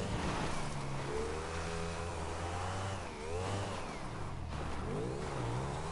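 A motorbike engine in GTA Online revs and hums steadily, pitch rising and dipping as it accelerates, a continuous mid-range drone throughout.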